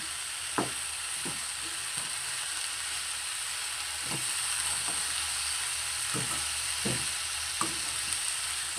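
Winter vegetables with turmeric and salt fry in a pan, giving a soft steady sizzle broken by several sharp scrapes and taps of a spatula as they are stirred.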